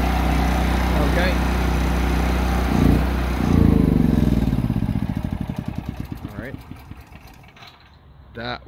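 A Firman T07571/T07573 tri-fuel generator running on gasoline gives a close, steady engine drone, then its firing pulses grow slower and more distinct as it winds down, with a few thumps near the end.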